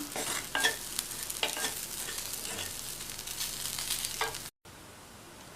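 Carrot poriyal stir-fry being tossed and mixed in a pan after the stove is switched off, with scraping strokes and a soft sizzle; a short silent gap comes near the end.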